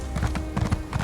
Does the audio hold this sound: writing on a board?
no